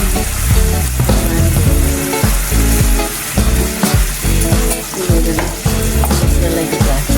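Tandoori-style chicken cooking in yogurt in a pan, with a loud continuous sizzle and repeated scraping stirs knocking against the pan in an irregular rhythm.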